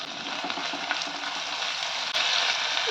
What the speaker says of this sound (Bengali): এখন দিয়ে দিচ্ছি টমেটো কুচি আর রসুন বাটা।